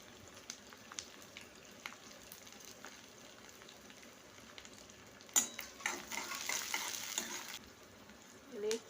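Green chillies stir-fried on low heat in a pan for soybean chilli, a soft continuous sizzle with scattered stirring scrapes, growing busier and louder in the last few seconds; no one speaks.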